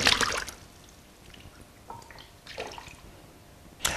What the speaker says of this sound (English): In our case, we'll just displace the water from above.